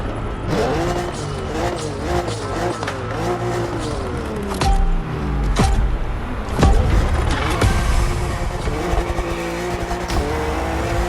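A BMW M4 drifts in a racing video game, its engine revving and bouncing through repeated gear changes while the tires squeal in long, loud stretches, close up and continuous with no talk.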